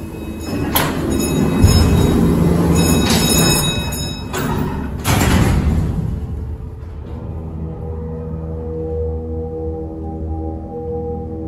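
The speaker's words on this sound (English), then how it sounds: "When will the doors close? There it goes." A Montgomery freight elevator at a Neiman Marcus store in Paramus, New Jersey, with its doors sliding shut in a loud rumbling, clattering run and a couple of sharp bangs, then settling into a low steady hum.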